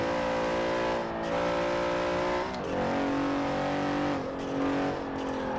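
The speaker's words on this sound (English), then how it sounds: "The engine kind of sounds cool from inside the car." A video game car engine in Forza Horizon 4 drones steadily from inside the cabin, rising in pitch as it revs, dropping briefly between gear shifts, then climbing again.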